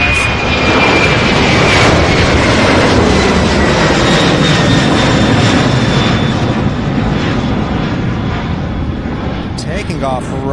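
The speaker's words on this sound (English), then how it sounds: "Taking off right here in front of us." A jet takes off from a runway at SDF in Louisville, its loud, sustained engine roar filling the air up close while radio chatter and voices are heard underneath.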